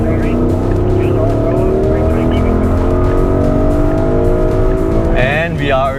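A Porsche Cayenne e-hybrid accelerates hard down the back straight of the Sepang circuit, its engine rising through several climbing gear sweeps, loud and close from inside the car, with a brief tire squeal near the end and a voice talking over it.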